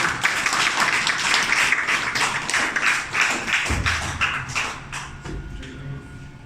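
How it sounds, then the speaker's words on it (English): Audience applause for Professor Walker at a lab visit event, a dense, sustained round of clapping that fills the room, tapering off toward the end. "Please round of applause for Professor Walker."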